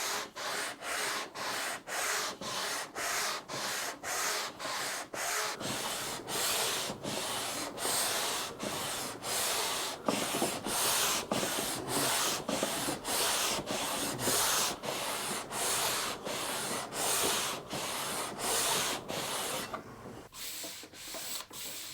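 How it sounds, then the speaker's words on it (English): Long back-and-forth strokes of a sanding beam shaping a 12-inch radius into a guitar fretboard on a workbench, a steady rhythmic rasping scrape repeated about twice per second, close and loud with no talking. "just start sanding very carefully until I have my nice 12-inch radius"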